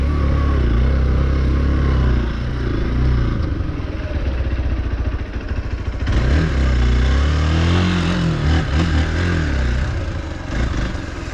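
Hero Xpulse 4V motorcycle wheel spinning on wet, slippery ground, the engine revving hard and rising in pitch as the rear tire slips, with clattering and a loud, close, continuous roar.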